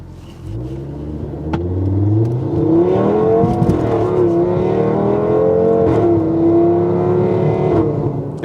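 An Audi TT RS with a Stage 2 build and hand controls accelerates hard, its five-cylinder engine note climbing steadily in pitch, loud and close, with a deep rumble and a brief dip before revving on.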